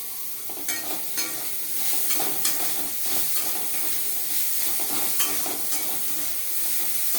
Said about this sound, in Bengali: এবার দেওয়া হচ্ছে টমেটো কুচি।